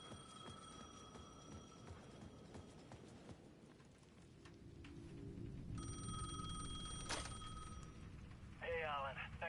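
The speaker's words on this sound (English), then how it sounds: "The payphone at the edge of the plaza was ringing again." A payphone in Alan Wake 2 rings in repeated bursts amid a busy plaza background with footsteps and clopping, ending with a short warbling electronic tone.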